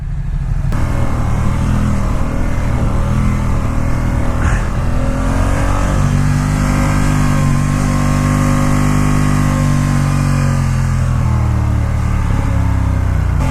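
A Ducati XDiavel S motorcycle engine pulls steadily in second gear, a loud, close, continuous drone with rising and falling pitch as the throttle opens through a leaning corner.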